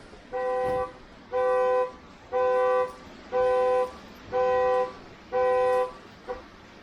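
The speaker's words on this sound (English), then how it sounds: "don't do this with car key in your pocket. It'll set off the alarm." A car alarm set off by a key in a pocket honks in six evenly spaced, sustained blasts, loud and fairly close, with no talking.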